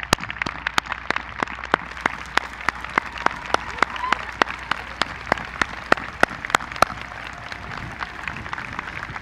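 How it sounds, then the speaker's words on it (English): Graduation ceremony audience applauding faculty and staff: steady, moderately loud clapping from a crowd, with sharp individual claps standing out near the mic, continuing evenly for several seconds. "please join me for a round of applause to our faculty and staff that made this year possible."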